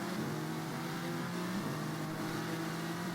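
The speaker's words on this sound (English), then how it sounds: "you can see the thunderous sound of the Nissan V8" A Nissan V8 GT race car engine drones continuously in a racing video game, a steady loud onboard roar with slight pitch shifts as it holds speed.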